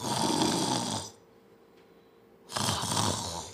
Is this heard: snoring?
yes